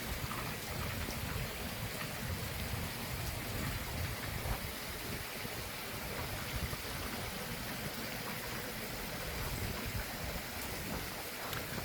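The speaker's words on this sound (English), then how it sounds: "So I was glad to film this little storm here." Steady rain pours during a summer thunderstorm in the Saint-Henri sector of Montreal, Canada, a dense continuous hiss with low rumbling underneath, loud and unbroken throughout with no voices.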